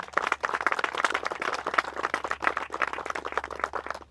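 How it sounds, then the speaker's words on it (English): Audience applause for a panel of speakers at a New Jersey political event, a steady dense patter of many hands clapping at once, fairly loud and close, sustained throughout without talk. "So just a round of applause for all of our speakers."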